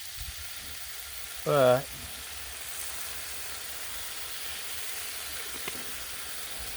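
Canned BBQ jackfruit sizzling on a hot griddle, a faint steady hiss and crackle throughout, with a short voice cutting in briefly early on.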